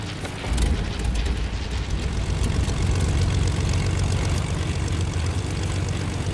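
A propeller airplane engine in a video game drones loudly and steadily, a dense continuous roar that holds at the same level for several seconds without talking over it.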